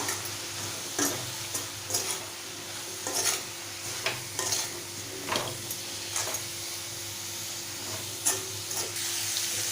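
Spoon stirring Kashmiri chili powder and garam masala through a drumstick, brinjal and potato curry in a pan, with repeated scraping strokes over a steady low sizzle and no talk.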